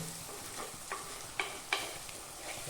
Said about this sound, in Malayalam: ഉള്ളി ഒന്ന് മൂത്ത് വരും ഉള്ളി നന്നായി മൂത്ത് വന്നു കഴിഞ്ഞാൽ